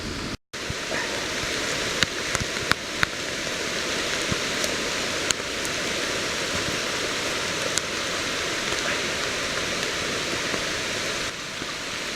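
Steady rain falling in the woods, heard from shelter under the roots of a big tree, a constant dense hiss with scattered sharper drips, no voices.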